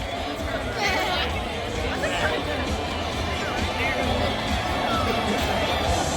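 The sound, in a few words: crowd doing the wave before Fantasmic at Walt Disney World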